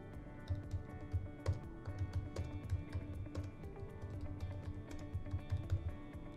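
Someone typing an email subject line on a computer keyboard, a quiet, even run of light key clicks with occasional firmer taps, close up and without talk.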